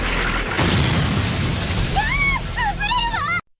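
A dragon explosion anime sound effect: a broad, rumbling blast roars continuously, then swooping shrill cries rise over it before it cuts off abruptly.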